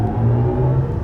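A 2024 BMW i7 M70 electric car with all-wheel drive accelerates hard, giving a loud, steady low rumble and rising whir from inside the cabin.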